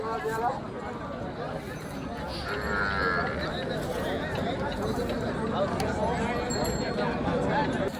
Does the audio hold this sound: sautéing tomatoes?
no